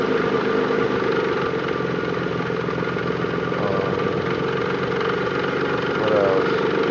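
Nissan 300ZX engine idling with a misfire, a steady close rumble with slight uneven pulsing throughout, mostly alone with no clear talk.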